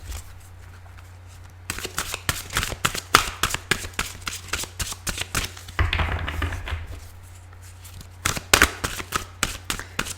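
Cards shuffled by hand close up, a rapid series of crisp riffling bursts and taps in uneven clusters, with brief pauses between rounds and no speech.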